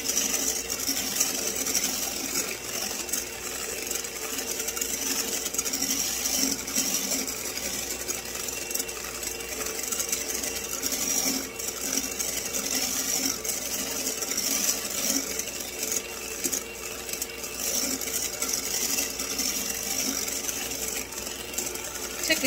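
A stand or electric mixer whips French-method macaron meringue at speed 5, giving a steady, continuous mechanical whirr that holds an even level throughout with faint rattling.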